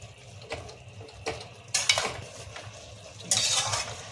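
A utensil stirs mixed vegetable Maggi noodles in a hot pan, giving a few scraping, rustling sweeps over a low sizzle, with louder strokes toward the middle and end.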